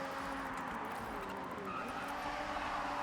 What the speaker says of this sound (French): quand je tourne, ça drift.